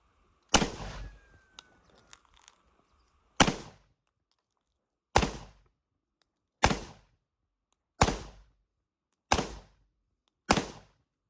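Seven sharp pistol shots from a Zastava M57 fired at a target about 20 meters away, spaced irregularly over several seconds, each a loud crack with a short decaying tail, no talking.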